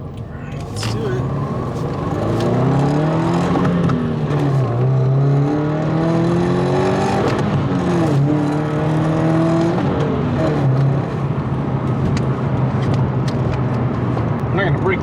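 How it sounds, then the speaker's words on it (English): A Toyota GR86 engine revs hard through high-RPM gear shifts on a straight road, its pitch repeatedly climbing and dropping in steady, loud sweeps from inside the car. "we should have a good straight section to do some high RPM shifting"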